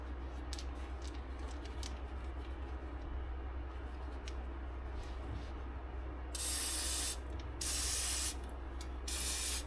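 An aerosol rust-preventive spray is applied to a wheel bearing on a 2017 Chevy Equinox, with three loud hissing bursts in the second half over a steady low hum.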